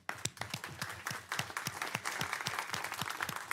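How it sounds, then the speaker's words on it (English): A round of applause at a council meeting, many hands clapping together in a steady, dense patter from a seated crowd, fairly distant and lasting a few seconds with no talk over it. "give her a round of applause,"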